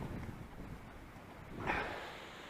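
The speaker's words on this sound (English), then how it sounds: "It is breezy." Breezy outdoor wind buffeting a microphone at an RC jet flying field, a soft steady rush with a louder gust swelling near the end, no talking.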